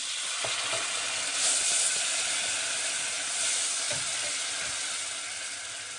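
Spice paste sizzles steadily in a hot pot after a little water is added, a constant hiss broken by a few faint clicks and stirring sounds.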